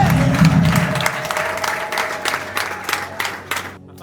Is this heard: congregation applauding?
yes